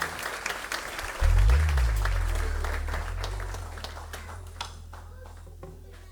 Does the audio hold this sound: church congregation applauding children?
yes